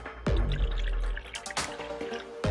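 Gatorade poured in a short trickle into a bowl, a few close drips and splashes over a low background hum.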